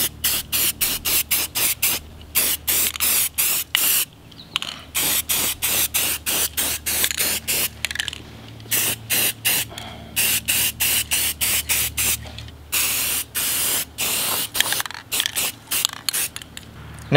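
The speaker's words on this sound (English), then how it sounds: "you can start spraying the caliper down" Short repeated bursts of spray paint hiss from an aerosol can coating a car brake caliper, dozens of quick close spritzes separated by brief gaps, with faint rattling between them.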